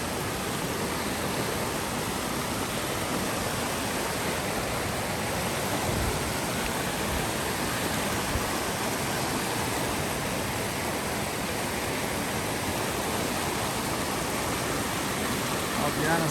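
A river rushes steadily along the Chiricahua natural bridge trail in southeast Arizona, making a dense, continuous broadband roar that stays loud and unbroken throughout with no voices.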